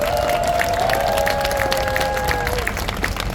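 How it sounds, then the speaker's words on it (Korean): An outdoor audience at a Korean neighborhood residents' protest rally with a nanta drumming performance claps in a steady, rhythmic beat. The fairly loud clapping runs under a sustained tonal voice or sound that fades after a couple of seconds. "다시 한번 뜨겁게 박수 쳐주시기 바랍니다"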